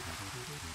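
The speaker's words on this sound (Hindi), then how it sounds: "ये देखो बारिश हो रही है।" Steady rain in Minecraft hisses evenly and close, a continuous patter with no break.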